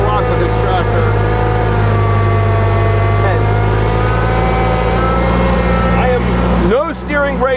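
A New Holland TC40 compact tractor, roughly twenty years old, runs with a steady, loud mid-pitched engine drone as it drives forward through a full lock-to-lock turn, with a brief shift in tone near the end.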